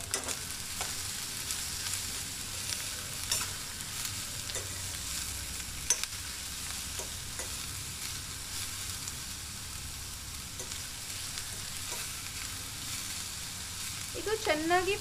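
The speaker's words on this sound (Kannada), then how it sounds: "ಇದನ್ನು ಇವಾಗ ಈ ಎಣ್ಣೆಗೆ ಹಾಕಿ ಫ್ರೈ ಮಾಡೋಣ ಚೆನ್ನಾಗಿ." Bitter gourd fries in hot oil with a steady, soft sizzle, while a spoon stirs the pan in regular scraping strokes every second or so, closing in a louder flurry of stirring.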